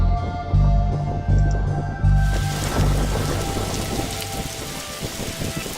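Steady rain and a rolling thunderstorm in The Darkside Detective video game, with several low thunder rumbles early on over continuous rain noise and a faint ambient tone, no voices.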